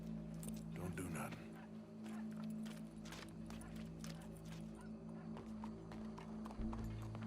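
Horse hooves clip-clop in the video game Red Dead Redemption 2, a run of sharp irregular hoof strikes under frequent talking and a sustained background tone.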